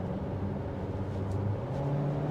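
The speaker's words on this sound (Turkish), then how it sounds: "Motorun sesi yaklaşık 2500'den sonra geliyor ama bak şöyle" A Renault Koleos with a 1.3 TCe engine revs in a fairly quiet, muffled car-interior setting, its steady hum climbing slightly in pitch over a couple of seconds with no talking.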